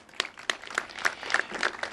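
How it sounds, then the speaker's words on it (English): Scattered clapping from a small crowd at a regional bomb squad readiness meeting, uneven claps blending into brief, modest applause. "Give him a round of applause"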